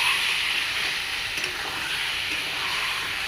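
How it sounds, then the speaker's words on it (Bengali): Soybean mixture is stirred in a hot pan with bay leaf, giving a steady, close sizzle of frying with a constant broadband hiss and faint stirring scrapes throughout, no voices. "এবার আমি এই যে সোয়াবিন মাখাটাকে দিয়ে দেবো। এটাকে আমি এখন এবার নাড়া দিয়ে নেব।"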